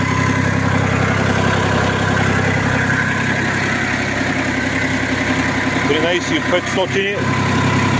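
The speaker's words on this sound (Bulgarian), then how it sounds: "В момента трактора работи без никакви пушъци, без забележки мотора." A Japanese 23 hp tractor fitted with a front loader idles steadily with a loud, even low rumble throughout, while someone talks over it close by.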